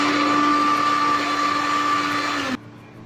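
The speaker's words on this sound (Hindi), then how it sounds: "इसे ब्लेंड कर लेंगे।" A kitchen blender whirs steadily as it mixes paneer, cream and a few drops of vanilla essence, then winds down and stops after about two and a half seconds. The motor whine is loud and close.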